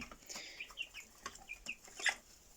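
In a coop, a broody hen and adult hens cluck softly at a distance, with short calls scattered over quiet farmyard background noise.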